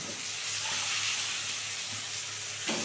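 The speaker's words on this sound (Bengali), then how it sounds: "এটাও সুন্দর করে ভেজে নেবো, একদম লাল করে ভেজে নেবো" Cauliflower and potatoes sizzle steadily in hot oil in a pan, a continuous soft frying hiss with occasional stirring, heard alone without talk.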